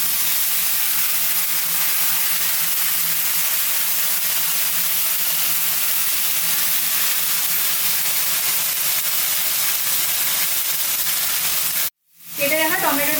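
Ground ginger, dried red chilli and green chilli paste sizzles in a pan for a paneer masala, a loud steady hiss that runs unbroken until a short break near the end, then resumes briefly.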